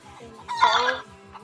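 A brief clucking burst from chickens in the Roblox video game, one short, bright squawk rising over a low repeating game hum, moderately loud and lasting under a second.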